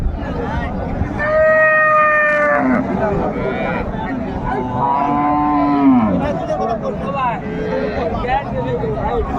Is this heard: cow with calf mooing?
yes